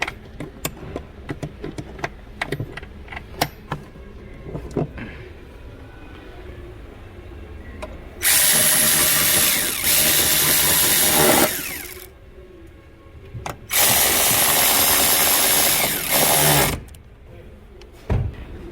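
A power tool drives two fasteners in quick succession: two loud, sustained bursts of motor whine, each lasting a few seconds with a short pause between. Scattered clicks and knocks of handling come before them.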